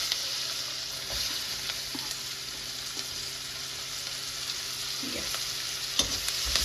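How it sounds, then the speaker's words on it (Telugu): Two medium onions frying in oil for a chicken masala, a steady close sizzle running throughout with a few soft stirring scrapes and knocks toward the end; no voices. "ఇప్పుడు నేను 2 ఆనియన్స్ మీడియం సైజ్ కట్ చేసుకున్నాను కదా, అది యాడ్ చేస్తున్నాను"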